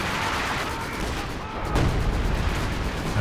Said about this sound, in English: Out the back, flame mortar.